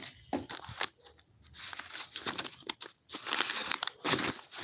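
A Green Dot envelope crinkles and rustles up close in bursts as it is handled and unfolded, with papery crumpling and short pauses between movements.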